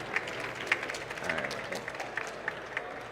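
Scattered applause from a conference audience at a Devconnect investor-matching event, a thin, uneven patter of individual claps, fairly faint, with talking underneath.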